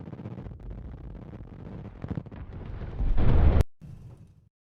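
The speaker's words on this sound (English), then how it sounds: "let's see how this missile strike is gonna go on this aircraft carrier group" A missile strike erupts against an aircraft carrier group in the naval strategy game HighFleet: a rumbling, crackling blast swells to a loud burst near the end, then cuts off into a lower fading rumble, with no talk.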